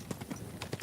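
Horse hooves clip-clop in a quick, even rhythm in the video game Kingdom Come: Deliverance II, several distinct hollow knocks close by with a soft background hum.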